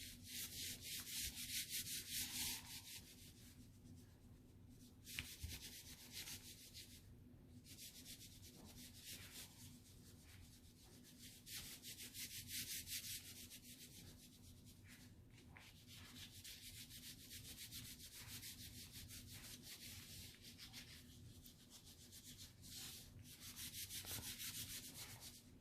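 Oil pastels rubbing steadily across paper while a waterfall is drawn, a continuous close scratchy swishing with repeated strokes and no speech.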